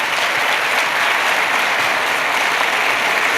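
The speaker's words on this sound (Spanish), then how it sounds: "Le damos un fuerte aplauso para darle la bienvenida a nuestro ponente del día de hoy." An auditorium audience gives a speaker a sustained, dense round of applause, loud and even throughout with no pauses.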